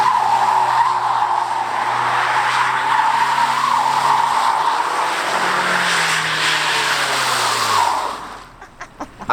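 A V10 Audi R8 engine roars steadily while it does donuts, tires squealing and skidding in a long continuous screech, fading out at the end with a few clicks.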